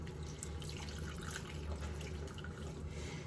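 Water runs steadily from a tap, with a soft continuous splash and faint drips, while conditioner is rinsed out of hair.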